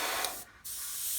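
An airbrush sprays gloss black paint over paper towel on a workbench, giving a steady close hiss that breaks off for a brief moment midway before resuming.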